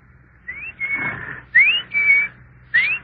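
A man whistles in imitation of a cuckoo clock bird, giving five short whistled notes: rising slides alternating with held tones, clear and close, with pauses between.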